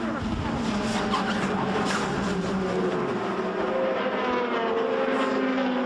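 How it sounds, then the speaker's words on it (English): IndyCar race car spinning into the wall during a 2013 race, a loud roaring engine with a harsh whine and scrubbing tire noise, continuous and close. "Spin going into the wall."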